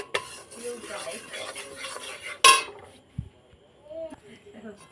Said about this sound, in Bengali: চালের গুঁড়োটা আমি হালকা করে আগে একটু ভেজে নেবো